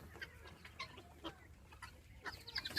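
Guinea fowl clucking in a free-range coop, a string of short, sharp calls scattered over a quiet outdoor background, some close and some farther away, with no talking.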